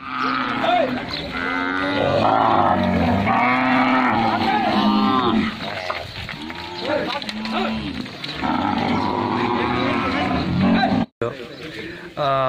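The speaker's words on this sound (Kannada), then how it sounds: "ಆ ಹಸುಗಳು ಒಂದೇ ಸಮನೆ ಕೂಗಾಡ್ತಾ ಇದ್ವು" Cows at a village cattle shelter in Bommadevarahatti, Challakere taluk, calling out for fodder: loud, drawn-out moos from several animals overlap one another almost continuously, with only brief breaks.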